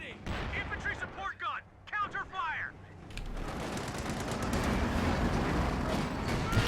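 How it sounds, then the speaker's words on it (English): Mortar fire and other gunfire in a Company of Heroes 2 battle, first a burst of sharp, rapid shots and then a dense, loud, sustained barrage. A voice talks over the early part. "that mortar just does not miss"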